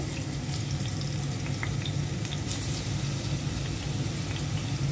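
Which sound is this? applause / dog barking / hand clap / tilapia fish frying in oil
tilapia fish frying in oil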